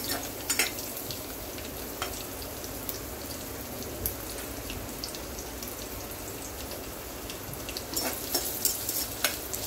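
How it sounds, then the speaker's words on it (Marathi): Onion sizzles in a generous amount of hot oil in a pan for a mushroom masala, a steady, quiet crackle with scattered sharper pops throughout and no voices. "तेल चांगलं टाकलं। कांदा गुलाबी रंगावरती भाजून घ्यायचा।"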